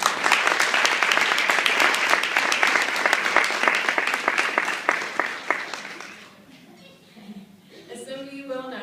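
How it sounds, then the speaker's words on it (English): A crowd at a baby shower claps steadily and loudly for about six seconds, then the applause fades and a voice begins speaking. "So I want to give you all the round of applause for facing this pregnancy like true warriors."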